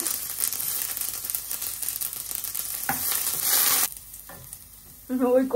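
Chopped ginger hits hot oil in a wok already holding mustard seeds and radhuni, giving a loud, dense sizzle and stirring scrape that drops away and flares up again near the end.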